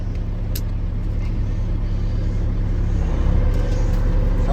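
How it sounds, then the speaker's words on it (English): A Kenworth T800 roll-off truck with a C-12 CAT engine idles in a steady, loud diesel rumble as its PTO engages, adding a slight shift in the low drone partway through. "Sounds like that actually engaged the PTO."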